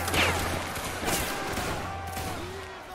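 A volley of gunfire rings out in a Napoleonic-era line-infantry video game battle, Army of Spain against Highlanders, with a burst of overlapping musket shots near the start over steady background battle noise.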